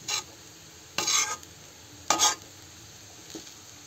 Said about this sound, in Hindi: इसको थोड़ी देर धीमी आंच पे चलाएंगे, उसके बाद गैस को तेज कर देंगे।